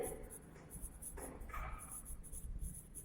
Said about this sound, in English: Write down the question.